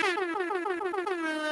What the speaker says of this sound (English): I'll bring the air horns for this one